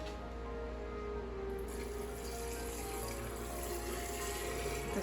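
Steady running liquid flows and splashes continuously into a measuring cup, a close and fairly even stream with no talking.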